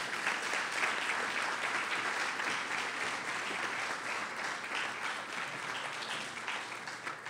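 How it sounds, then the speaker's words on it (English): Dense, sustained audience applause at a governor's event in Newark, a thick continuous wash of many hands clapping that holds steady for several seconds before easing slightly, with no voices on top. "please give them a round of applause."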